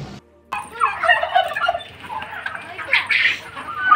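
Turkeys at a poultry farm gobble in fairly close, rapid warbling calls that come in two bursts, with faint outdoor background sound between them.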